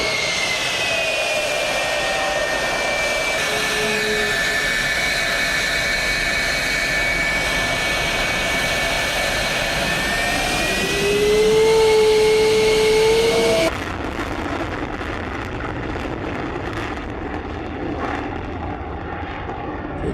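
A Lockheed F-104 jet on its first test flight roars loud and steady with a whining engine tone, swelling briefly near the end before the sound cuts to a thinner, quieter rumble.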